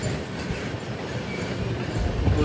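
Coromandel Express rolls toward Gudur Junction with a continuous rumbling rail noise and wheel clatter heard from inside the moving train, loud and steady.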